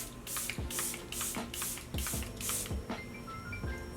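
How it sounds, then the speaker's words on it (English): Charlotte Tilbury makeup setting spray misted in six quick, evenly spaced hissing spritzes at close range, with a soft background hum and no talking. "My current favorite setting spray is the Charlotte Tilbury spray."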